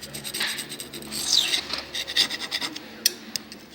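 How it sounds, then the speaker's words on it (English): A homemade knife made from a broken hacksaw blade is rubbed by hand across a coarse sharpening stone, giving close, loud, gritty rasping strokes in an uneven back-and-forth rhythm. "I'm going to use a coarse sharpening stone and continue with the putting the bevel"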